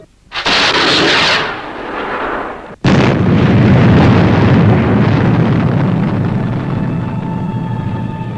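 The Fireball XL5 rocket engine ignites with a loud roaring burst, cuts off briefly, then roars again into a sustained, heavy launch rumble that slowly settles.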